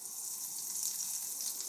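A small breadcrumb dropped into oil heated on medium for frying peas cutlets gives a steady, close, bright sizzle and crackle that holds evenly through the moment, with no talking.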